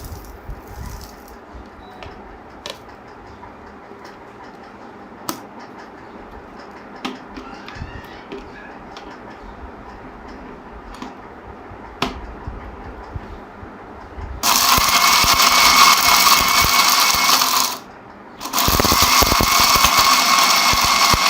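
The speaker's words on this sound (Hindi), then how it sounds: "अब इनको पीसना शुरू कर रहे हैं इस वाले जार में।" After a quiet stretch of small rattles and clicks, a mixer grinder roars loudly while grinding whole biryani masala spices in its jar. It runs in two bursts separated by a brief pause.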